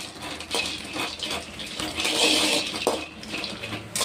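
Makhana lotus seeds tossed and roasted in ghee in a pan, giving light clinks, rattles and scraping as the seeds are stirred, with a soft sizzling hiss underneath, moderately close.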